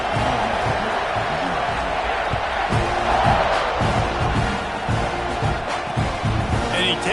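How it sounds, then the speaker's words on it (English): A football stadium crowd keeps up a dense, steady roar after a score, filling the background while a commentator talks over it throughout. "this crowd is buzzing after that last score"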